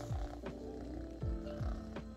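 A cat purrs close by, a soft continuous rumble with regular rhythmic pulses as it breathes in and out, quiet and alone without talk.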